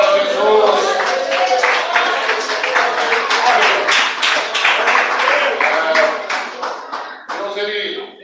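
A church congregation claps together, dense and fairly loud, with voices mixed in throughout. The clapping thins briefly near the end, then resumes.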